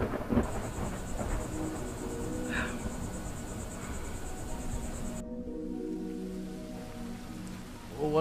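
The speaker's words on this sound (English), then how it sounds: "We can't meet in the rain." Steady rain pours outdoors with a constant wash of noise, and a high insect-like drone runs through the first part before cutting out; no thunder stands out clearly.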